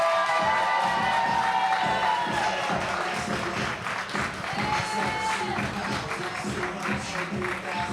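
An audience claps and cheers for a slam poet at a spoken-word event in Philly, steady applause with scattered shouts filling the room for several seconds without speech.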